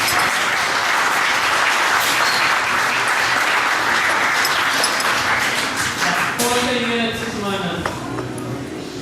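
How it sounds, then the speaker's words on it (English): A crowd applauding loudly and steadily, then the clapping fades as a voice begins speaking over it. "Round of applause, please"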